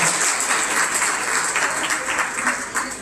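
Crowd applause for the kids at a goat show, dense and steady clapping from many hands that stays loud throughout and tapers slightly near the end.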